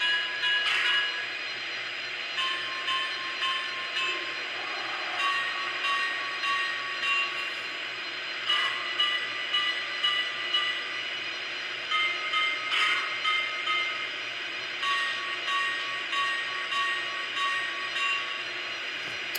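Model train bell from a Lionel VisionLine Big Boy 4019 locomotive, rung steadily over a continuous mechanical hum, with sharper strikes recurring every few seconds at a close, even level and no voices.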